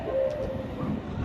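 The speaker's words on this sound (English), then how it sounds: "Oh, here comes another train" A subway train pulls into Buhre Avenue station in the Bronx, New York, with a loud rumbling roar and a brief high metallic squeal of wheels on rails, close by and alone.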